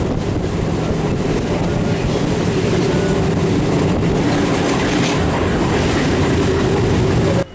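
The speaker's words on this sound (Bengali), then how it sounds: "দেখতে দেখতে ট্রেন এসে গেল মসলন্দপুরে।" A Bangladeshi-style Bongaon local train rolls along the rails in a loud, steady rumble with clickety-clack and wind noise, heard from inside the carriage until it cuts off abruptly at the end.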